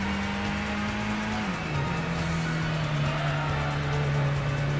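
Car accelerating uphill in Gran Turismo on PS1, a loud continuous engine drone that holds its pitch, dips briefly and then settles lower, with tire and road noise throughout.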